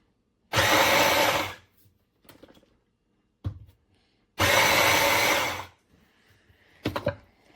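A cordless UTALENT variable-speed immersion hand blender runs in two loud, steady bursts of about a second each, separated by quieter clatter and handling noise, with no talking.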